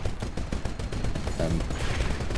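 Arc cannon from Titanfall 1 discharging in rapid crackling bursts amid dense battle noise, a steady barrage of sharp electric zaps and impacts layered over continuous combat clatter.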